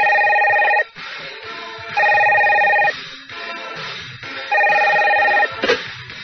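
A telephone rings three times in steady bursts, each trilling ring loud and close, with short quiet gaps between them.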